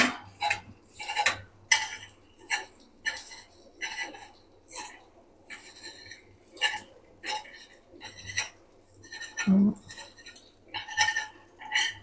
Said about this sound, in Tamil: நம்ம அந்த தோசை கரண்டியாலே கட் பண்ணிக்கலாம் சின்ன சின்ன பீஸா